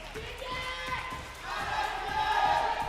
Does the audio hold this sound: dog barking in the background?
no